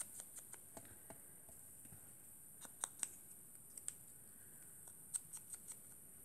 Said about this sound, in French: on va venir couper notre cercle en deux